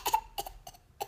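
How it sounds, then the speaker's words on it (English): A small child gives a few short, dry coughs in quick succession, close and fairly quiet, with brief pauses between bursts and no talking. "How do you cough?"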